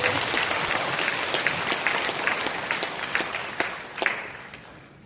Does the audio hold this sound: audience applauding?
yes